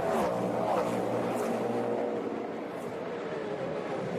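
An IMSA race car at the Long Beach street circuit, its engine droning loud and steady while accelerating, then easing slightly as it fades.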